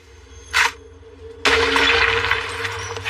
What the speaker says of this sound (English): Destroy it and the barrier should shatter.